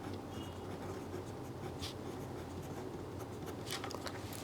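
Pen scratching on paper while a geometry solution about triangle angles is written out, a steady, close, quiet scribbling texture with a few sharper strokes, no talking.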